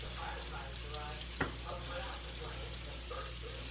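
Bacon fries in a pan for a Zuppa Toscana soup, a soft, steady sizzle with light crackling and one brief sharp clink partway through.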